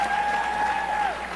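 An audience in the UN General Assembly hall claps in a loud, sustained wave of applause, with a faint whistle-like tone riding over the crowd noise.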